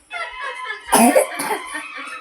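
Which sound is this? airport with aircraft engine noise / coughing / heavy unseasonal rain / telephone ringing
coughing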